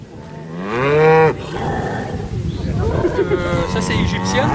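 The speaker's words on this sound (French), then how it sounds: "Donc c'est deux vaches qui viennent de veler dernièrement, à qui on vient de séparer le veau." Two dairy cows on an organic farm in Finistère, recently calved and just separated from their calves, give loud, long moos up close, followed by lower lowing and further calls against farmyard background noise.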